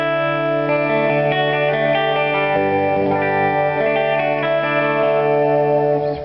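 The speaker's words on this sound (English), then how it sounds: "do like a slap back type sound, which a lot of people enjoy for picking" Sustained electric guitar chords ring out through an analog slapback delay doubling each note, giving a bright, echoing, twangy texture; no talking.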